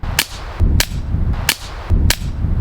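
Four sharp, cracking gunshots fired through a titanium suppressor at a steady pace, loud and close, each followed by a low muffled boom, with no talking.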